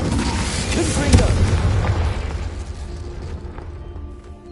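A Confringo fire spell in Hogwarts Legacy bursts with a loud booming blast that swells and fades over a few seconds, with a voice speaking alongside.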